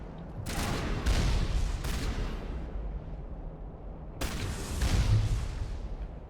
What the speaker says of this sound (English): That's the thing that's shooting at me.